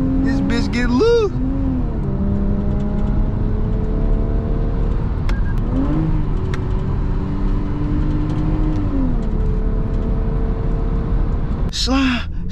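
A 400 hp Lexus IS300 engine revs while the car slides through a turn, with rising and falling engine tones and continuous road and wind noise close inside the car, plus a short voice exclamation near the start and end.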